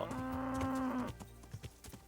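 In the video game Kingdom Come: Deliverance, a cow gives one long, fairly loud moo lasting about a second, then a few soft hoof clip-clops follow with no one talking.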